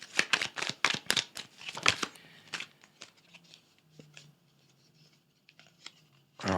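Tarot cards shuffled and flipped in a rapid burst of crisp, close papery snaps and slides, easing into a few softer isolated card movements before another flick at the end.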